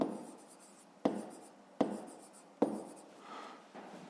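Pen or chalk writing out an equation for a fifth-grade maths exercise, with four sharp strokes starting scratchy runs of scribbling, close and moderately quiet, no talking.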